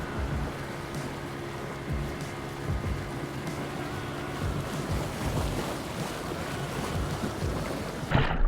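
A boat heading out on the sea off Bali, its steady engine rumble blending with waves, water wash and buffeting wind on the microphone, continuous and fairly loud throughout with no voices.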